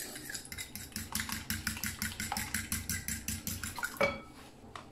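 Soy sauce, vinegar, lemon juice and pepper mixed with a spoon in a bowl, giving a fast, steady run of close metallic clinks and scrapes that ends in one louder knock.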